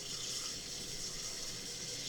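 Cold water pours steadily over homemade butter fat made with a handheld mixer, a brief, close, even splashing hiss of running water.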